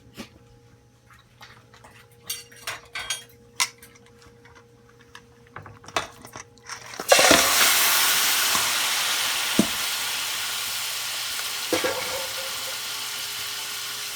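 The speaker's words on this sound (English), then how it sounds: "I'm going to let these meat fry until it comes down to the oil" Pieces of beef for a Guyanese-style pepper pot are dropped into hot oil after a few light clinks and knocks; a loud, steady hiss of frying then takes over, close and continuous, with a stray clatter.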